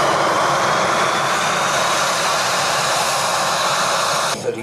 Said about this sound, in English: And now from the left, the MiG-29.